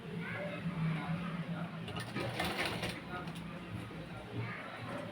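A sewing machine stitching piping onto a padded blouse runs with a steady, fast mechanical whirring and clatter while a voice talks over it.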